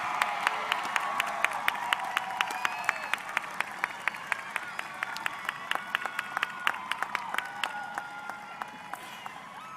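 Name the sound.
graduation audience applause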